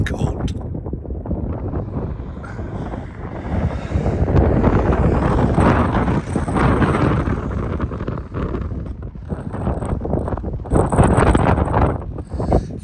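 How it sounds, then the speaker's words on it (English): Wind howls and buffets the microphone outdoors in cold, sunny conditions beside a parked Auto Trail Expedition 67 pop-top camper van, a loud continuous rushing roar that surges and eases throughout with no voices. "the wind is howling"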